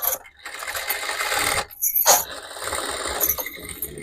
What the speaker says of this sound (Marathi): मी डबल टीप मारून घेते.